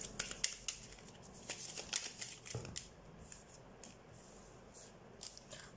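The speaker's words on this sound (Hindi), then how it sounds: "सबसे पहले हम कार्ड शफल कर लेते हैं" Tarot cards being shuffled by hand in a quiet indoor setting, giving soft, irregular riffling and papery rustles, louder in the first half and fading toward the end.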